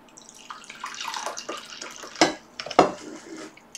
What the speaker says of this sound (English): Pour out some tea.